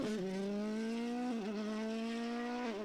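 A Hyundai WRC rally car driven by Thierry Neuville at the Ypres rally screams past at high revs, its engine note holding steady with two quick gearshift dips, loud and close with no talk.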